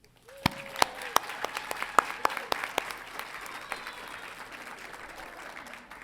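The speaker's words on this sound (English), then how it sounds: "I would like us to give you a round of applause to those who have supported these" Audience applause at a university graduation hooding ceremony in a large hall, steady dense clapping from many people with a few sharp louder claps standing out near the start, sustained throughout.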